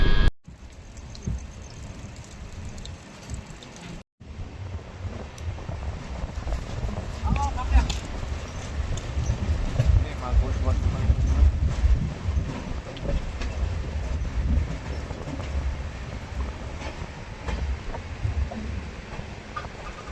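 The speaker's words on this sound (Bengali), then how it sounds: "এই মুহূর্তে আমাদের ট্রেন ফালাকাটার দিকে কিন্তু যাচ্ছে।" Intercity express train running overnight from NJP towards Falakata on the Guwahati route, a steady loud low rumble of carriage and track noise with wind buffeting throughout and a brief dropout early on.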